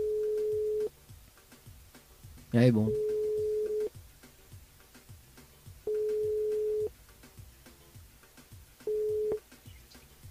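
Phone ringing on a call to a listener's mobile during a live French radio broadcast: four evenly spaced steady tones, each about a second long, with a short burst of talk between two of them.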